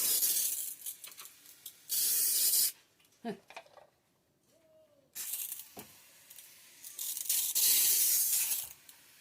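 Short bursts of spray hiss from a pump sprayer lightly watering seeded soil, two long sprays separated by quiet handling clicks and faint rustling.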